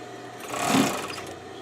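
A sewing machine makes a brief stitch, one short swelling run on a stuffed animal's ear, close and alone.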